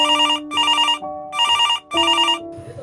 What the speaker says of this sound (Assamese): ফোনটো ৰিচিভ নকৰা কিয়?